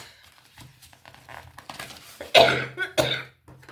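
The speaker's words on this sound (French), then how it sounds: "Et oui, ça tousse toujours." Two harsh, close coughs in quick succession, preceded by quiet rustling and breathing.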